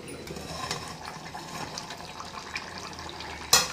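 Water runs steadily from a kitchen tap, a close, even hiss of flowing water that continues throughout and ends with a sharp clink.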